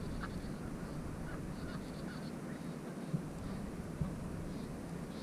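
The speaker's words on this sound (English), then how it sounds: "There's our duckies." Ducks calling faintly in snowy outdoor surroundings, with a few scattered quacks over a steady background of wind or water noise and two brief sharp knocks.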